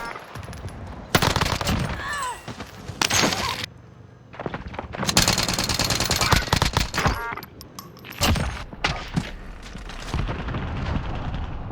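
Gunfire in the video game Warzone: bursts of rapid automatic shots and single cracks, loud and close, broken by short pauses, with faint game voice lines in places.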